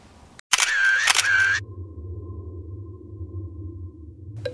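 A single-lens reflex camera fires during a nighttime light painting session: a sharp shutter click opens and closes a long exposure, followed by a steady low electronic hum and a faint click at the end, with no talk.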